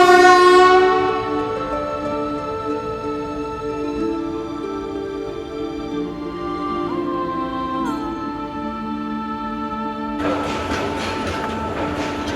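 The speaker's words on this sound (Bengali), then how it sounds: "আমাদের ট্রেন অলরেডি চলে আসছে উদয়ন এক্সপ্রেস" The Udayan Express pulls into a Bangladeshi railway station: a loud, sustained train horn of stacked tones opens the clip and fades into a steady rumble, with a burst of broadband rail and brake noise near the end.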